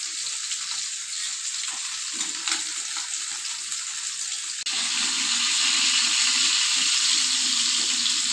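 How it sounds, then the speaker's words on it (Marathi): Mackerel fillets fry on a low gas flame with a constant hiss of sizzling oil that grows louder and fuller partway through, with no talk over it. "तसे कमी गॅसवर पण खूप छान भाजून घ्यायचे आहे"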